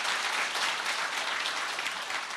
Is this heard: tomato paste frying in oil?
no